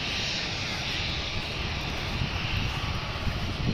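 An airplane approaches and passes overhead on Phuket in Thailand, a loud, sustained engine roar that fills the scene and swells slightly toward the end, with no clear speech over it.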